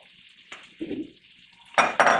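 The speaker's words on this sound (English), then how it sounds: "we'll saute this mixture until the onion is soft" Onions and vegetables sizzle in a pan, a steady hiss that carries through, broken by a utensil clink, a short stirring scrape and two louder bursts of frying near the end.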